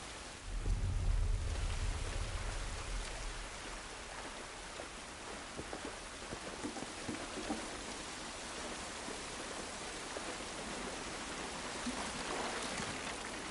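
Steady rain with rumbling thunder in an outdoor scene of the video game The Last of Us Part 1, a loud low boom at the start easing into continuous dense rainfall that carries on throughout, with no talking.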